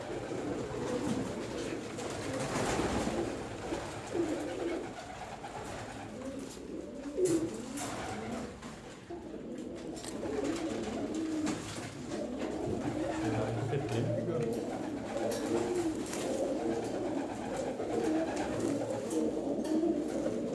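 At a pigeon seller's in Turkey, with birds from the old Aksaray line, pigeons coo in a low, continuous murmur while people talk and handle the birds nearby.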